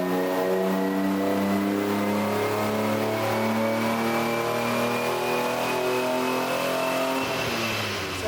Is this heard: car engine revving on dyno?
yes